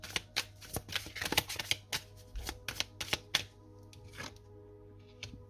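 Tarot cards being shuffled by hand, a rapid series of crisp riffling slaps and flicks in quick irregular bursts, close and fairly quiet with a faint steady hum underneath.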